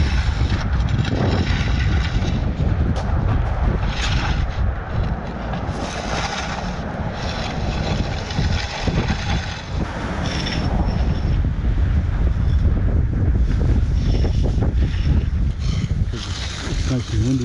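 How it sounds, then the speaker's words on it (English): Strong wind blows outdoors at a concrete-pouring site, buffeting and rumbling loudly against the microphone in gusts that rise and fall throughout, with no voices. "It's nice and windy out here."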